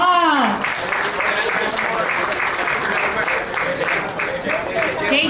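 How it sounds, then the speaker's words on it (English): An audience applauds steadily for several seconds, a dense wash of clapping that stays loud throughout, with a brief whistle at the start. "let's give them a round of applause"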